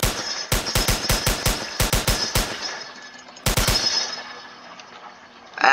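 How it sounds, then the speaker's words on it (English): Gunfire in the Roblox game ER:LC: a rapid burst of about a dozen sharp, loud shots, a pause with fading echo, then a shorter burst of three or four more, close and with no talk over it. "I accidentally shot you."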